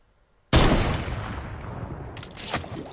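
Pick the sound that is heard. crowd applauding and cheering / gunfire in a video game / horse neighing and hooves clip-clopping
gunfire in a video game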